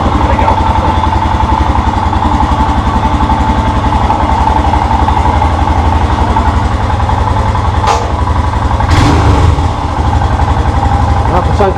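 A Royal Enfield Himalayan motorcycle engine runs steadily close by, a low thumping idle that continues throughout, with a brief mechanical clunk near the end.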